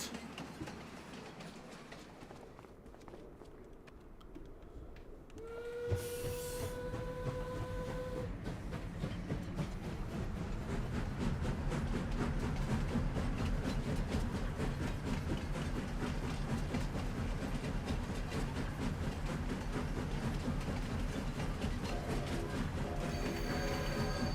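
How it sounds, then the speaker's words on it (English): A rented steam train in Farming Simulator 25 gets fired up. A quiet start gives way to a sharp whistle blast, then a steady, loud rumble of wheels and clickety-clack rolling on without voices. "Train sounds better when you get into it and fire it up and the whistle goes rather than when you blow the horn yourself."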